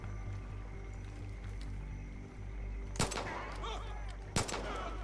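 Gunfire in the video game Far Cry 5, two sharp loud bursts standing out over a low steady ambient rumble, with a few faint shots earlier.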